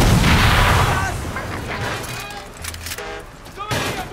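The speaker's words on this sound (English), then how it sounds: "Someone's shooting!" Gunfire in Far Cry 6, a heavy opening burst of shots and booms followed by scattered sharper cracks and echoing blasts, with voices calling out over the combat.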